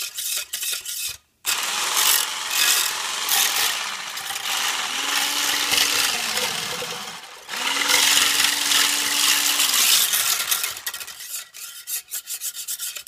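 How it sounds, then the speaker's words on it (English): Leftover soy container wax scraped from the sides of a container. Close, continuous rasping and scratching with one brief pause, plus a faint tonal squeal in two stretches. "You just keep scraping the sides."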